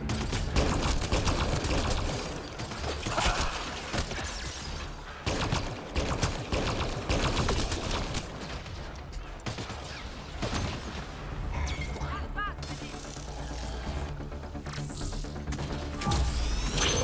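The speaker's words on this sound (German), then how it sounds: "Ist das nicht schön, wenn man dort ordentlich schießen kann?" Rapid bursts of gunfire in the Mass Effect Andromeda video game during an assault on a Kett base, dense crackling shots and impacts continuing almost nonstop, with occasional metallic and energy effects layered in.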